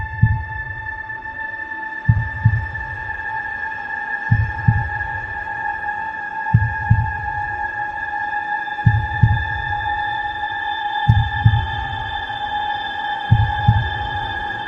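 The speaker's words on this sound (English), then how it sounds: "you'd hear the heartbeats and the heartbeat switch the scenes" A heartbeat sound effect thumps in paired low beats roughly every two seconds over a steady electronic hum, loud and close, with no speech.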